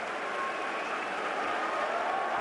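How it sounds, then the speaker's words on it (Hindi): Audience applause at a Delhi Independence Day event, a steady, evenly sustained wash of clapping from a large crowd, moderately loud and unbroken. "तालियां हो जाएं।"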